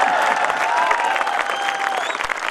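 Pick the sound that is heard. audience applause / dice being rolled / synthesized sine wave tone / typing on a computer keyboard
audience applause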